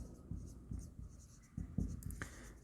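Pen writing an account entry on paper: soft scratchy strokes tap and scrape in short irregular bursts, close and quiet, with no voice over them.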